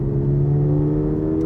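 A Toyota GR86 engine on a race track holds a loud, steady high-rev drone with strong harmonic tones and no break throughout.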